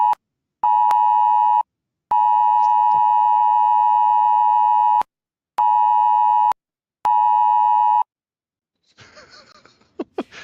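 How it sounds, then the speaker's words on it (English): A phone's emergency alert test tone blares as loud, steady electronic beeps in repeated long bursts separated by short gaps. The tone then stops and people laugh. "the emergency alerts on your phone were only a test?"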